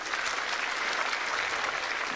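Steady applause from a large tennis crowd at the 1979 Australian Open final, a dense continuous patter of clapping that holds evenly throughout without voices rising above it.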